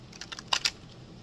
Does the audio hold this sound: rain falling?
no